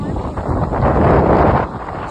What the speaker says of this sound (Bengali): বহুত হাওয়া রে